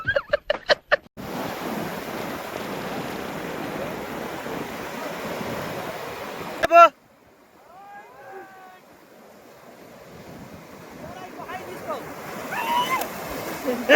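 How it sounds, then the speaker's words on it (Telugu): Sea waves wash onto a sunny beach with wind buffeting the microphone, the surf roaring for several seconds before dropping to a softer wash as people talk. "ఈ సండే వీకెండ్ సముద్రం అయితే వచ్చాం గాయ్స్"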